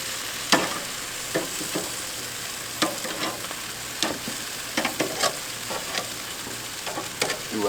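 Chicken drumsticks sizzling over a settled, stable Kingsford charcoal fire on a direct grill, a constant fry with sharp pops and clicks of tongs rotating the legs scattered across the clip.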